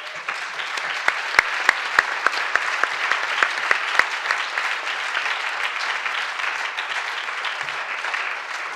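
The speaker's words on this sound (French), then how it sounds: "Beaucoup d'applaudissements aujourd'hui pour vous tous." A conference audience applauds steadily and loudly, a dense wash of many hands with a few sharp near claps standing out early on.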